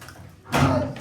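Running water from a tap in a home gushes on suddenly, a steady broadband rush that continues loudly to the end without any talk.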